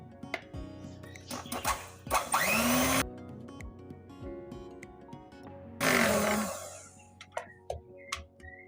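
An electric hand mixer whirs in two loud bursts, each lasting about a second, with quieter clatter and kitchen noise in between while making profiterole dough. No one speaks.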